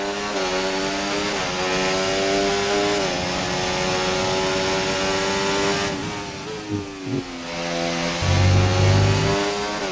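An F1 car engine in F1 24 held at full throttle, a loud, steady high-pitched whine with harmonic layers that dips briefly around gear changes before climbing again, running alone without talk.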